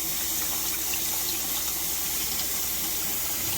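Water rinses through a used cast iron tetsubin kettle. It makes a steady, soft rushing gush under faint background noise.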